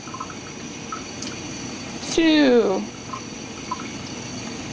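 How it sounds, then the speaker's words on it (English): Water is poured into a bowl of thick vanilla microwave cake batter, a short rising gurgle lasting under a second, near and clear, with a voice briefly counting before it. "I'm going to add some more water because this is really thick"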